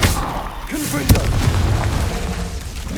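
A Confringo blast spell in the Hogwarts Legacy video game: a single loud booming explosion with a sharp crack, close and forceful, with a voice speaking over it.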